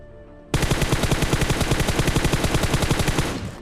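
Rapid automatic gunfire from an M416 rifle in PUBG Mobile bursts in suddenly and continues as a loud, fast, evenly spaced stream of shots for about three seconds.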